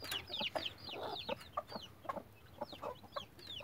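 Hens clucking in a farmyard, a series of rising, squawky calls repeated in irregular bursts over a soft background, fairly close, with no talk.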